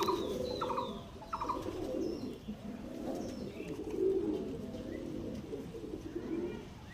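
Pigeons, Pakistani Sakib Teddy breed, coo in low repeated throaty phrases, with a few chirps from other birds, close and moderately loud, no talk.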